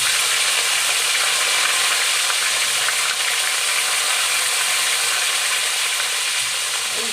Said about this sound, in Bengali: প্রথমে আমি ফুলকপিগুলো ভেজে নেবো।